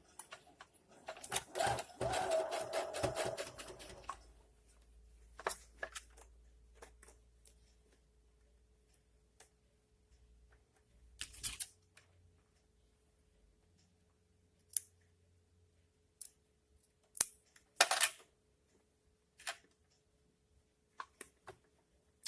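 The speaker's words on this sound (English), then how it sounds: "I go exact to the edge, back and forth stitch" A sewing machine runs a back-and-forth stitch along the edge of an Armani blouse, with a long steady whirring burst at the start, then shorter stitching runs and clicks.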